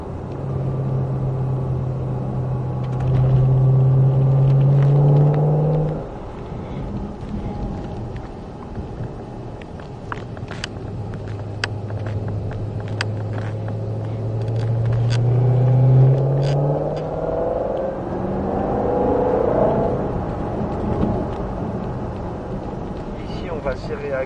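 A Shelby car on a track rises in engine pitch under acceleration, then eases off and swells again with a low rumble and wind buffeting, heard from inside the car while people talk over it.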